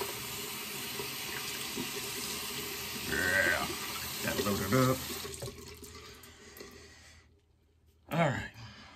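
Tap water runs steadily into a sink while shaving soap and a brush are prepared, then the water is dumped off with a brief splash near the end; someone talks over the first part.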